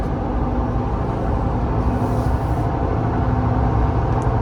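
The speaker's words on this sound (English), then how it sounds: "Surely y'all can hear the little bit of tire noise. That's mud terrains for you." Mud terrain tires hum on the road under a 2012 Ford F-250 4WD with a 6.7L diesel, a loud steady low drone of tire noise and cabin rumble with no break.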